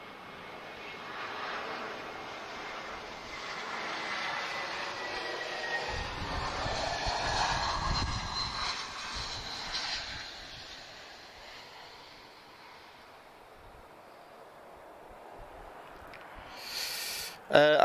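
A British Airways airliner at Lisbon Airport produces a broad jet engine roar that builds, peaks and slowly fades into distant rumble, with a person talking over it.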